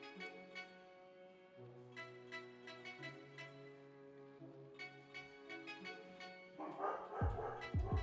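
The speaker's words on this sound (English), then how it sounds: "Dogs be yapping out there." Dogs yap outside, heard faintly from a distance with small repeated barks and yips set against a steady tonal backdrop, and a louder, busier stretch comes near the end.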